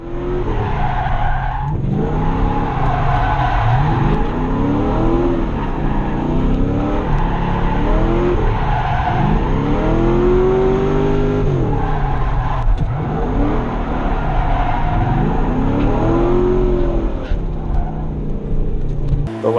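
A car drifting through linked corners, its engine revving up and down in repeated swells while the tires squeal and skid almost continuously, loud and close.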